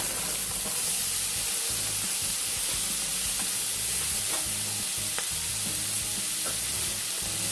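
An Oriental-style Asian vegetable blend sizzles and fries in a hot pan, a steady bright crackling hiss with scattered pops and occasional stirring scrapes, heard close and alone with no talking.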